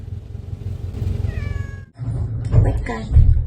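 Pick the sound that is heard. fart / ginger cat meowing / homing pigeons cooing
ginger cat meowing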